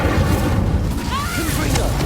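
A Bombarda spell explodes in Hogwarts Legacy on PS5: a loud, dense booming blast with low rumble that persists through the clip. Voices sound over it.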